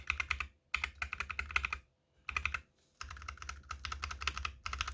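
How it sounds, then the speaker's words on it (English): Holy Panda and NovelKeys Box Royal unlubed mechanical keyboard switches clack in quick bursts of typing, crisp and close, separated by short pauses. "as you can hear, the Holy Panda is a bit higher pitch and a little bit louder than the Box Royal"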